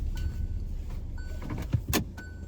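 A car parked on a neighborhood tour in Edgewater, Lancaster, South Carolina, as people climb out: a steady idle hum with a power-window whir, then a sharp door clunk and a brief rattle near the end.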